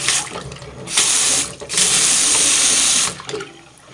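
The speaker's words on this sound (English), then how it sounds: "Too much water pressure that you can barely control." Hotel room water tap running at very high pressure through an antique aerator, a loud close hissing rush that surges on and off in several long blasts with brief dips between.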